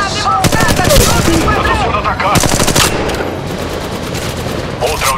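Rapid automatic gunfire bursts crackle loudly in the mobile battle royale game Apex Legends Mobile, with repeated volleys and short gaps between them.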